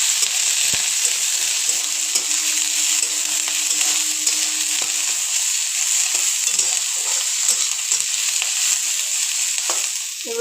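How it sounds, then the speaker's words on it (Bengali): Chopped ginger and green chili frying in oil in a pan, a steady, loud sizzle running throughout with occasional stirring scrapes, no voices. "আদা কুচি, লঙ্কা কুচি, এগুলোকে ভালোভাবে ভাজবো।"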